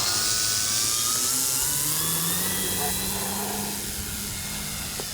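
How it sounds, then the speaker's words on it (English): An electric Flex Aviator 40E RC plane climbs out under takeoff assist, its motor giving a steady, loud whine with a low drone beneath that fades slightly toward the end, heard over continuous outdoor wind noise. "apply throttle, and the plane will just take off at a nice upward angle to get you up to a safe altitude"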